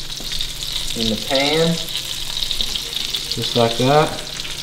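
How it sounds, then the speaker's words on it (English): Deer tomahawk steaks sizzle loudly in hot butter in a pan, a dense close frying hiss that runs under a man's short remarks. "We'll take our tomahawks, put them right there in the pan."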